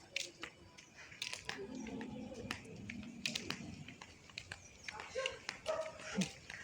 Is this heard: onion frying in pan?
no